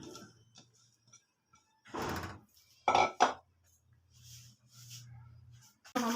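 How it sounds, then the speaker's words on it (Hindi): Chapli kebab mixture of beef being tipped from a small bowl into a larger one, with a few soft scraping clatters of bowl and spoon over near silence, two brief louder bumps midway. "हमारा जो बाउल है वो छोटा था तो हम इसको दूसरे बाउल में डाल लेते हैं।"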